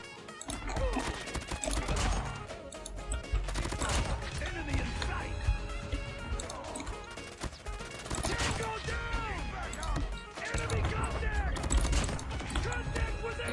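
M13 assault rifle fire in Call of Duty: Mobile, with rapid bursts of automatic shots and clattering game effects running steadily throughout, nearly masked at times by someone talking over the action.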